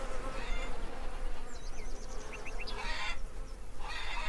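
Steady buzzing of bees swarming around a beehive in the farming game Farmer's Dynasty, a continuous drone with brief higher chirps layered over it, alone with no talk.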